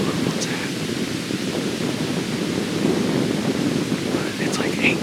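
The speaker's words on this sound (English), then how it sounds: "this wind is just ridiculous. Like it's 20 miles an hour right now probably." Strong wind of about 20 mph on an open morning during a deer hunt, a constant loud rushing roar that buffets the microphone throughout, with no one speaking.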